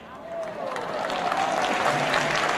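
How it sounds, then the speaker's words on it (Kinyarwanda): A crowd applauds at a Rwandan political gathering for President Paul Kagame: steady, dense clapping and crowd noise throughout, with a voice carrying over it. "ko numva mukomya amashyi make"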